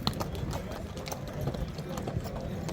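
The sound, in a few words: hooves of an ambling horse at a horse market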